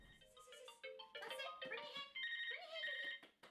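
A telephone ringtone plays loudly and close, a melodic electronic tune repeating its notes over several seconds with no one speaking.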